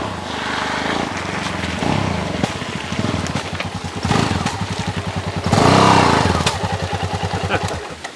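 A Yamaha XT660Z Tenere motorcycle engine runs steadily while riding, a continuous rumbling drone that swells as the throttle opens, with wind noise and someone talking over it.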